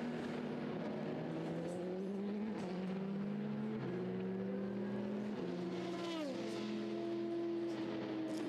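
A race car at the 24 Hours of Le Mans, engine note rising and falling through gear shifts and Doppler sweeps as cars pass, a sustained high whine over faint background.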